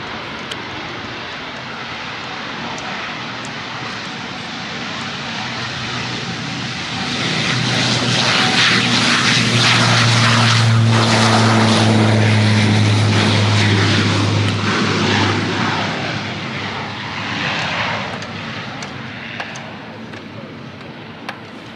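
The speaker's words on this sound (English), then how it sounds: "comes a turboprop." A loud turboprop airplane engine at a small Cape Cod airport, building from a steady drone to a close, roaring pass with a low propeller hum before easing off, heard alone without talk.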